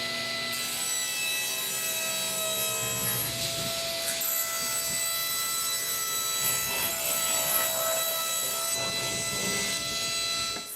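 A power saw rips a wooden board down to 8.5 inches wide, its motor whining steadily with a rough cutting rasp through the wood, loud and close, with no talking.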